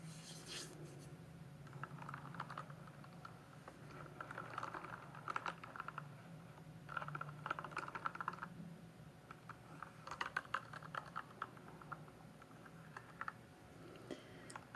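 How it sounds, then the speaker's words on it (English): Close, soft clacking of someone typing on a mechanical keyboard, with irregular bursts and clusters of keystrokes running steadily throughout and no talking. "This is my super favorite mechanical keyboard."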